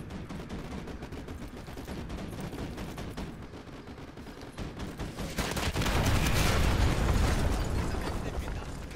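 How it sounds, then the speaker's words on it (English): Artillery barrage in Call of Duty: Modern Warfare 2, dense rumbling blasts and gunfire-like bursts rolling continuously, swelling louder and heavier in the second half. "Fire mission received. Artillery inbound. Coordinates confirmed. Firing."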